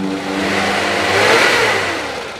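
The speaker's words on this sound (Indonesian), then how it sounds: "Kalau kita geber juga suaranya masih aman, nggak ada suara ciri-ciri metal." A 1996 Suzuki Carry with a 1.0-litre engine revs up from idle, the engine note rising to a peak and easing back down, close and loud with no talk.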